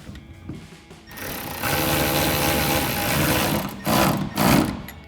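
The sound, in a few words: 14mm socket tightening down a bolt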